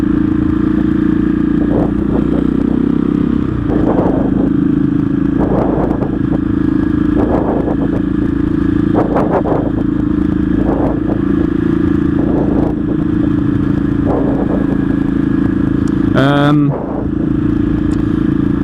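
KTM 660 SMC motorcycle with a Remus header and Sebring exhaust runs with a loud, steady single-cylinder drone and rhythmic rises as the throttle opens, close and continuous, with wind rush and a brief chirp near the end.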